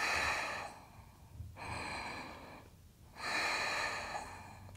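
Slow, deep breaths drawn and released through the nose during a yoga side plank, three long airy waves with short pauses between, close and fairly soft.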